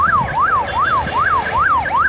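An ambulance siren at a horse race wails loudly in a fast, regular rising-and-falling cycle, close and continuous throughout.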